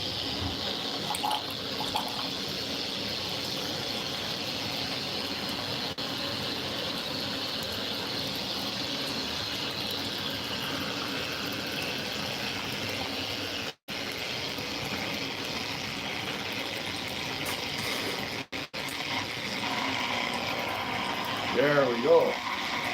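Water runs from a garden hose through a small homemade gold sluice and wash plant, a steady rushing, splashing flow that holds for the whole stretch, with someone talking over it.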